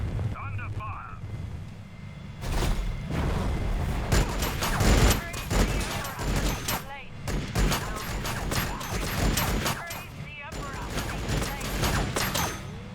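Gunfire in the Warhammer 40,000 strategy game Battlesector comes as dense, rapid volleys and booming bursts, loud and sustained after a short quieter opening.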